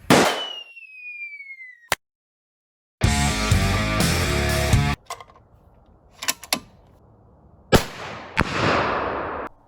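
A .338 Lapua rifle fires sharp, loud shots outdoors, separate cracks at intervals with pauses between them and clatter from handling and reloading.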